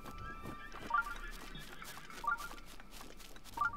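Horse in Breath of the Wild, with three short snorting or whinny-like bursts near one second, 2.3 and 3.6 seconds, spread over a steady bed of game ambience.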